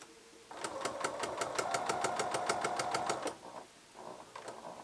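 A domestic sewing machine stitches a striped tunic top, a steady rapid run of needle strokes for about three seconds, then the motor slows and stops before a brief quieter burst of stitching; no talking.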